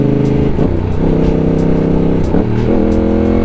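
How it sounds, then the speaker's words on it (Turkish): A loud twin-cylinder Yamaha YZF-R7 motorcycle with an opened exhaust idles with a deep, throbbing exhaust note and blips the throttle twice in quick revs. "biz egzozu açtık zaten şimdi şuradan dinleyeceksiniz"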